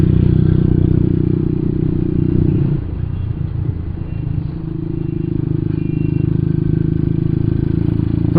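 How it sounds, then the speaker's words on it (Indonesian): A Yamaha Byson motorcycle with a carburetor and Yoshimura aftermarket exhaust idles with a deep, steady exhaust rumble, close by and continuous, dipping briefly in loudness midway before settling back. "Terus suara knalpotnya ini yang dari Yoshimura Purbalingga nih"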